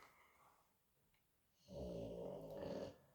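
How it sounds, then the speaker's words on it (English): A dog snores nearby, a soft quiet inhale followed by a loud, rumbling snore that lasts over a second before trailing off. "I'm sorry about my dog snoring."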